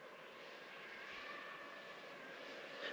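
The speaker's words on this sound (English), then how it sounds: "And boy, I can hear the drone going." A DJI Mini 2 drone flying overhead at the Snake River Canyon, giving a faint, steady high whine that swells slightly as it passes, with no talking.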